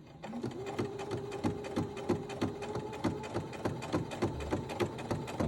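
Brother Innovis 15 computerized sewing machine stitching at slow speed, a steady even train of close mechanical needle clicks over a soft motor hum, alone at moderate volume.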